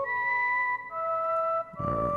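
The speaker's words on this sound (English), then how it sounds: "It's called Human Whistle." A sampled human whistle from the East West Goliath library plays a clear, steady melodic line of sustained tones with a couple of brief pauses, alone and fairly close.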